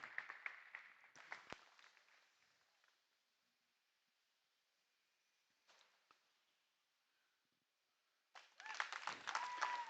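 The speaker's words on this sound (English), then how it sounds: "let's give these kids a round of applause" Audience clapping for young exhibitors at a junior market goat show, with a burst near the start, a brief smattering midway, and a louder swell of applause at the end after quiet stretches.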